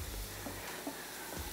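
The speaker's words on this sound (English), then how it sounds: "we are sauteing the onion here" Onion sautéing in a pan makes a faint, steady sizzling hiss, heard up close and alone for a brief moment.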